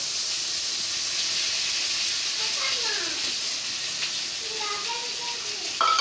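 Chopped onion and garlic frying in oil with cumin seeds, a steady bright sizzle throughout with faint tonal chirps and a small clink near the end.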